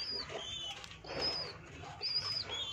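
A domestic pigeon flaps its wings in quick, faint bursts while attacking a person, with soft scuffling and brief high chirps in a quiet indoor setting.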